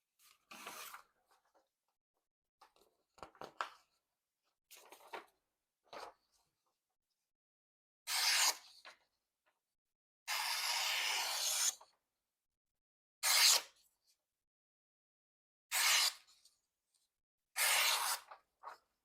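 A sharp stonewashed hollow-ground pocketknife being test-cut on material: a series of short, dry rasping slices separated by silences, some brief and a few longer drawn cuts, close and fairly quiet.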